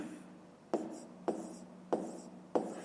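Pen or chalk strokes write out a math solution for a fifth-grade exercise converting kilograms to tonnes, four sharp taps of the writing tool landing at a steady rhythm, close and fairly quiet with no talking.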